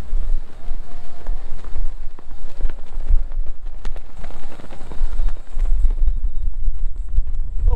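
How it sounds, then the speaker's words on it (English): Heavy wind buffets the microphone on a boat off Clearwater, Florida, with low rumbling gusts and crackling bursts throughout, fairly loud and continuous. "A little windy out here today."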